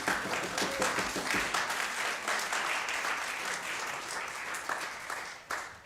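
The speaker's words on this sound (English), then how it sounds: "I'd like you all to give our amazing musicians another round of applause." A concert audience applauds musicians after an environmental music performance in New York City: a dense, sustained wash of many hands clapping, loud at first and slowly tapering, with a few scattered claps at the end.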